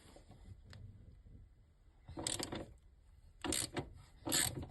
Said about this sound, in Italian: Vado ad allentare il bullone.